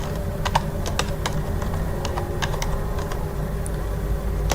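HTML code is typed on a computer keyboard in a close, rapid patter of key clicks that runs without pause, with some sharper individual taps.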